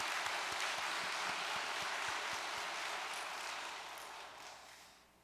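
A congregation applauds during a church service, a dense wash of clapping that holds steady, then fades away over the last couple of seconds.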